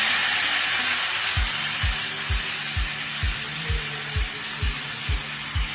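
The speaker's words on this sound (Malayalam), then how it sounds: "നന്നായി തിരുമ്മി വെച്ച കടച്ചക്ക ആഡ് ചെയ്ത് അത് നന്നായിട്ട് അങ്ങ് ഇളക്കി കൊടുക്കാം." Grated raw jackfruit hits a hot oiled pan with mustard seeds, giving a loud steady hiss of frying with a run of regular low knocks from stirring against the pan.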